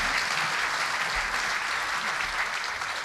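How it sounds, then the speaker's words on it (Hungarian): Steady, dense applause from a concert audience honouring a choir at a memorial concert, a continuous wash of clapping that fills the room without pause. "Szerintem egy tapsot megérdemelnek."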